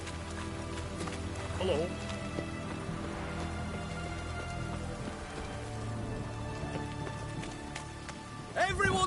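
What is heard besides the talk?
rain in the video game The Witcher 3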